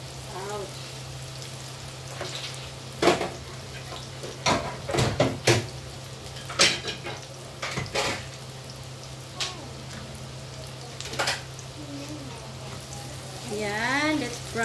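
Leftover grilled chicken and eggplant sisig sizzling and frying in a pan, steady crackle under repeated sharp clatters and scraping stirs, with a brief voice toward the end.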